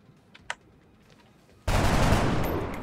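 Two faint clicks, then a sudden, loud, sustained burst of rapid automatic gunfire in a UFO/XCOM-style turn-based strategy video game, continuing to the end without talk.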